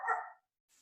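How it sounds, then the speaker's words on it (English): A dog gives a single short bark, fairly faint and distant, followed by a brief soft trailing noise in a quiet indoor space. "that's a dog, by the way."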